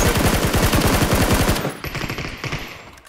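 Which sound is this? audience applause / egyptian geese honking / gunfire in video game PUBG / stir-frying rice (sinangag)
gunfire in video game PUBG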